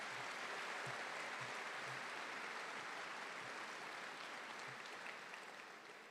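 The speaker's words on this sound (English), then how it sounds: "Let's give him another round of applause." A graduation ceremony audience applauds for a speaker with steady, faint, distant clapping that fades slightly toward the end.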